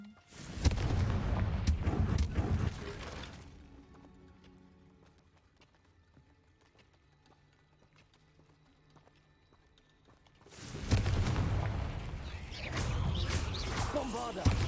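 Spell blasts are cast in the Hogwarts Legacy video game, making loud booming bursts and rumbling impacts in two dense clusters at the start and end, separated by a quieter stretch, with a player's voice shouting over them.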